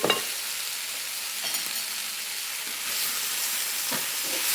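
Small potatoes and mixed vegetables fry with Indian spices and chili powder in a pan, a steady close sizzle and hiss with a few soft stirring scrapes, heard alone with no talking.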